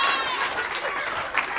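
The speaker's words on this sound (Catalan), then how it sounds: "Un aplaudiment per ell, home." Brief audience applause during a storytelling performance, a short burst of clapping mixed with crowd noise and faint voices.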